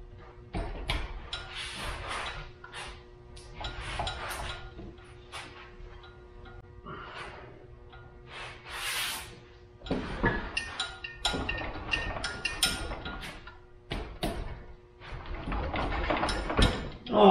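A Subaru STI EJ25 engine is being installed, and its crank is turned by hand to seat the clutch plate, giving intermittent metallic ratcheting clicks and clinks in short bursts with pauses, close up, with some speech between.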